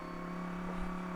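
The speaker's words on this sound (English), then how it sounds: "I do love the Lamborghini Huracan. It's by far my brother's favourite GT3 car." Lamborghini Huracan GT3 V10 engine in the iRacing sim, a steady low-rev drone that holds nearly constant and moderately loud for about a second, with no talk.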